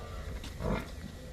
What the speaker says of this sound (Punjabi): ਇੱਕ ਮੱਝ ਬਾਹਰ ਹੁੰਦੀ ਨਾਲੇ ਸਾਰੀਆਂ ਡਿੰਗਣ ਲੱਗ ਪੈਂਦੀਆਂ